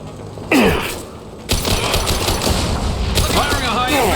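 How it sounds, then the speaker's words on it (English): Rapid bursts of automatic weapon fire from the video game Mass Effect 2, a sharp shot opening a dense, continuous fusillade of loud close-range gunfire with booming impacts. "Firing a high-impact shot!"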